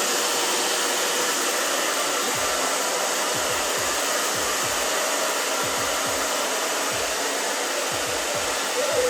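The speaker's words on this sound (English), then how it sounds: "with the blow dryer." A handheld blow dryer runs steadily and close while drying short pixie-cut hair, a loud even whoosh throughout with faint low bumps as fingers work through the hair.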